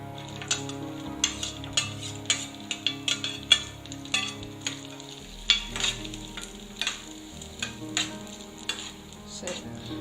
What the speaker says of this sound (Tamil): லோ ஃப்ளேம்லேயே வச்சுட்டு தேங்காவை ஒரு 2-3 நிமிஷம் வறுத்து எடுத்துக்கலாம்.